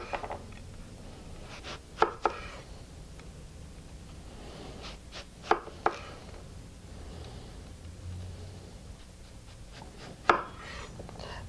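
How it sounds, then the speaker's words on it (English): A knife cuts turnips into 5 mm slices on a board, giving a few sharp, separate chops with long pauses between them, close and fairly quiet, with no talking. "Cut your turnips into 5 mm slices."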